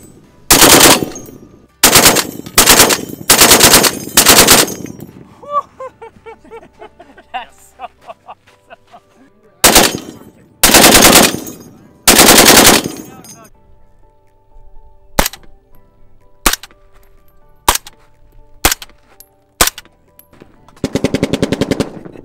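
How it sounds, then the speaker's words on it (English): A .50 caliber machine gun fires at an army training range in several loud, sharp bursts, then single heavy shots spaced apart, each followed by ringing echo, ending in a rapid final burst. ".We're about to shoot the 50."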